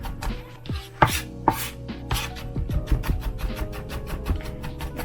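A knife chops vegetables on a cutting board close by, starting with a few loud, spaced strokes and then settling into a quick, even run of lighter chops.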